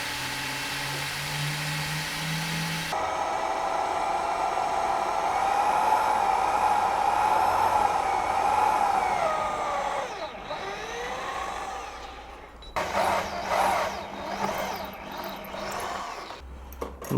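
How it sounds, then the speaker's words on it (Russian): A drill bores a water drain channel into a Yamaha outboard motor, giving a steady, loud whirring whine close up for several seconds before it slows, stops, then restarts in shorter bursts. "Сверлим канал для слива воды."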